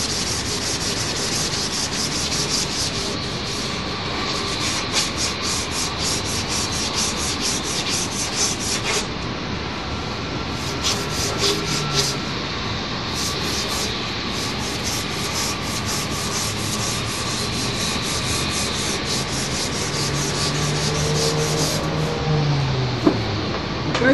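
Steady, continuous rubbing of 150-grit sandpaper over a surface, close and fairly loud, with a uniform rasping texture that runs unbroken throughout.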